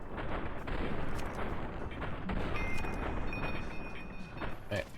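Gunfire in Fallout: New Vegas, rapid bursts of shots and booming impacts over a dense, continuous rumble of combat, loud and close throughout.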